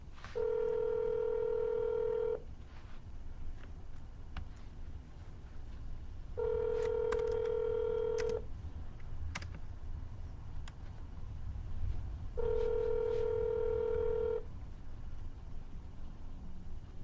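An outgoing phone call to a $475,000 expired-listing homeowner: a steady ringback tone sounds three times, each ring about two seconds long with roughly four seconds of quiet between, clear over a low background hiss.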